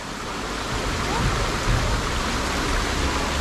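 Clear spring water flows steadily at a natural bathing spot, a constant broad rushing wash like a small stream, fairly loud and close throughout.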